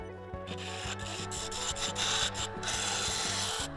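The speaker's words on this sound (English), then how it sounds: "now that I've got a round, I'm turning at about 1800 RPM" Wood lathe spinning at about 1800 RPM while a tool works a laminated Australian hardwood mallet blank, giving a steady close rubbing and scraping hiss over a low motor hum with rhythmic pulses, no talk.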